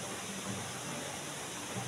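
Clear stream water flows steadily around people bathing in it, a soft, even broadband rush with no break, fairly quiet and alone.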